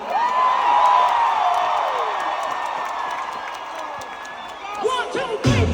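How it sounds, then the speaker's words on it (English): A studio audience claps, cheers and whoops in a sustained wash of crowd noise with excited shouting voices throughout, swelling near the end. "Give yourselves a round of applause."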